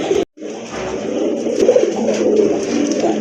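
Domestic pigeons at a Bangladeshi pigeon sale coo steadily in low, throaty rolling calls. Several birds are close together and the cooing carries on without a break, with no talk over it.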